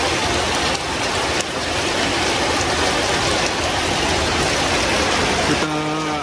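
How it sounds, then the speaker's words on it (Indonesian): Rain pouring steadily during a roadside stop on a motorbike ride, a dense loud hiss filling the whole span with little variation, ending in a brief tonal sound. "menepi lah, hujan kan."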